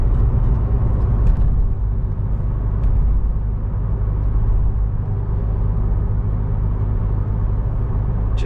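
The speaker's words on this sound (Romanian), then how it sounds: "Că dacă îi dau acum un sprint," A Ford Mondeo Mk3 2.2 TDCi accelerating hard, a loud continuous low diesel rumble filling the cabin, steady and unbroken, with no talking.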